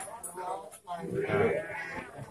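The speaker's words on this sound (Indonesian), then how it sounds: "Belakang saya itu adalah kambing-kambing yang di sebelah sini ya" Goats on a goat farm let out a short wavering bleat midway, heard under a voice talking close by.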